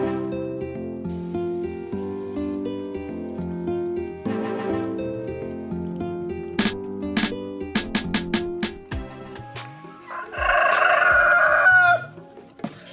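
Hens and a rooster kept organically, several loud crowing calls with sharp clucks and squawks over about thirteen seconds, near and alone with no talk, a long strained crow standing out toward the end.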